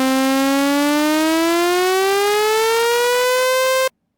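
A steady synthesizer tone from Phase Plant glides smoothly upward by one octave over about four seconds, loud and buzzy with many harmonics, then cuts off abruptly, with no voices.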